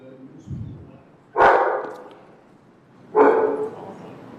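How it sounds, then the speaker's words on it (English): A dog barks inside a council chamber during a city commission meeting. Two loud, sharp barks ring out a couple of seconds apart in a reverberant room, with a softer yip or whimper just before. "It would really be helpful if your dog's going to bark if you take him outside the chambers."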